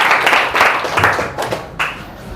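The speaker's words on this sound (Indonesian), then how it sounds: "tepuk tangan untuk kita semua" A group of students clapping together in a school classroom, in several loud, close bursts of claps separated by brief pauses.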